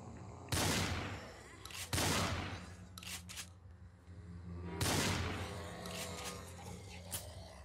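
Gunfire from the last few cartridges in the Project Zomboid game: three loud, sharp blasts with echoing tails, at the start, near two seconds and near five seconds, with brief metallic clicks between them.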